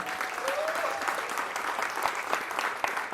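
Audience applause at a launch ceremony for a Marathi TV serial, a steady, dense wash of many hands clapping from a sizable crowd, sustained and moderately loud throughout.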